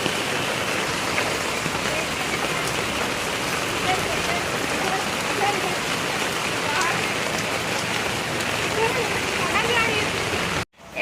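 Heavy monsoon rain in a rural Odisha setting, a loud, dense, unbroken hiss pouring steadily for several seconds before cutting off abruptly near the end.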